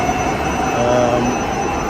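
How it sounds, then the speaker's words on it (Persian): A Warsaw metro train at Ratusz Arsenał station makes a loud, steady rumble with a faint high whine running through it, continuous for the whole stretch. "این هم یکی از متروهای شهری ورشاو، متروی راتوش آرسنال."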